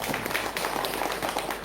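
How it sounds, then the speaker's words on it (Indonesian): A dense, steady wash of clapping from a group gathered at an eco-friendly farming workshop, many hands blending into continuous applause at moderate loudness. "kita tepuk tangan semuanya"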